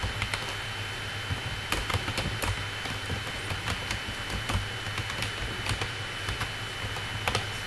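Someone types quickly on a computer keyboard in MS Word, making a steady stream of close, crisp key clicks of uneven rhythm over a faint low hum.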